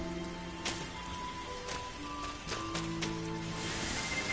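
Rain pours in the video game Sky, a steady dense patter with scattered louder drops and soft sustained music tones running beneath it.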